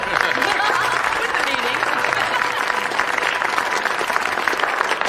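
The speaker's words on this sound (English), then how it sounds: "I think we owe a round of applause to our master chef of the evening, Mr. Andrew Browning" Dinner guests at an evening event applaud the chef after a meal, steady dense clapping from a crowd with some voices mixed in, continuous throughout.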